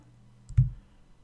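One short, close mouse click lands on the green run arrow of a Java programming editor, sounding alone in a quiet room.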